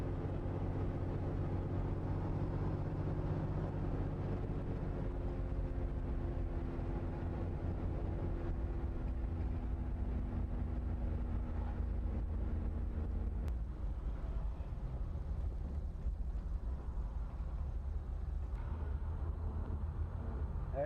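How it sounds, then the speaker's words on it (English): 1939 Mack DE pickup truck driving slowly, a low steady engine drone with a humming tone that shifts partway through, heard from inside the cab over constant road and wind rumble. "Nice slow truck, isn't it?"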